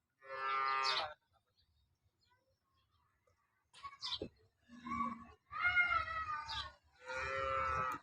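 Local cows on a farm lowing in several loud, separate calls with quiet gaps between them, heard close by.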